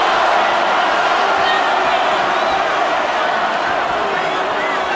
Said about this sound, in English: The crowd is now chanting for Tarver.